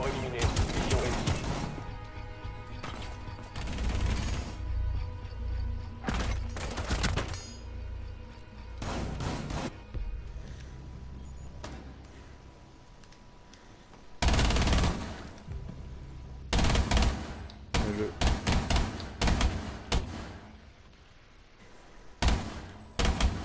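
Single gunshots ring out one at a time in Rainbow Six Siege, loud and close, in irregular bursts separated by quieter stretches of ambient game noise.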